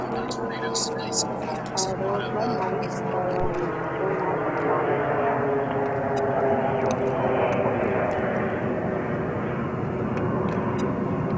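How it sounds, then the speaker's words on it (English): A 13-year-old Mitsubishi CRJ-900 regional jet departs JFK runway 31 left for Norfolk, a steady broadband engine roar at a moderate distance. It carries on throughout while people talk over it. "departing JFK's runway 31 left to Norfolk. The aircraft is Mitsubishi CRJ-900"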